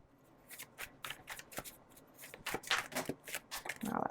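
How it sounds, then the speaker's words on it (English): A tarot card deck is shuffled close up with a run of quick, papery riffles and taps. The deck sometimes slips out in chunks, and a louder flurry of shuffling comes toward the end. "This deck, sometimes when I shuffle it, gives out chunks."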